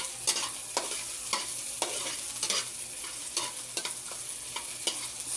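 Garlic sautéing in a pan, a bright steady sizzle punctuated by regular scraping strokes of a spatula roughly every half second, close and clear with no talking.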